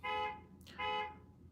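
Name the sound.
car alarm going off outside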